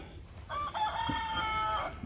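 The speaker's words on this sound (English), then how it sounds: "Mr. Rooster saying good morning, hello." A rooster in a garden crows once loudly and close by, a drawn-out cock-a-doodle-doo lasting over a second with a raspy, wavering tail and no voices.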